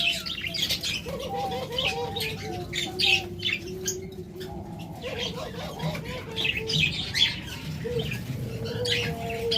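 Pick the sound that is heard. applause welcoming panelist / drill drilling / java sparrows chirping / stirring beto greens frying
java sparrows chirping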